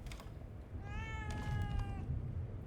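A cat meows once, clearly and fairly close, in the video game The Evil Within 2, heard over a low background rumble.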